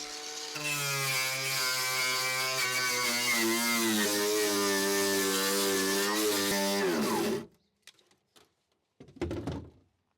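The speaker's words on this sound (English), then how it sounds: "I'm just going to wire brush some rust off over here." A power wire brush grinds rust off car sheet metal, a loud, steady, whining hum that holds for about seven seconds and then winds down and stops, followed by a few faint clunks.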